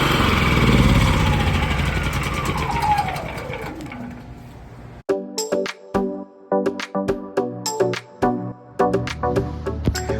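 A Champion 5000-watt inverter generator engine runs loud and close with a steady drone that winds down in pitch, followed by a series of sharp, uneven clacks and ticks.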